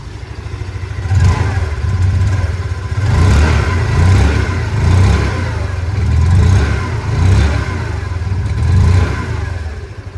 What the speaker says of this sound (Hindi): आइए अभी सुन लेते हैं इस स्कूटर की एग्जॉस्ट